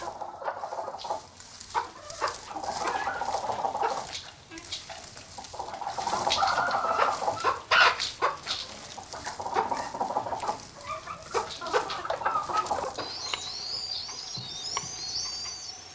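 Hens cluck steadily in a busy, overlapping chorus, with a few high chirps joining near the end.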